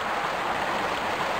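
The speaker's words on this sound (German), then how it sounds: "als wäre es ein rauschender Fluss." Continuous rushing water from a river in Tomb Raider Remastered, in the Vilcabamba level, forms an even, hissing roar with no breaks and no talking.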